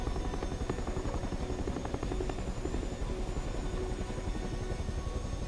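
A Chinook twin-rotor helicopter flies in Microsoft Flight Simulator 2024, giving off a steady, close rotor drone with a rhythmic chopping pulse and a constant turbine whine, with no voices over it.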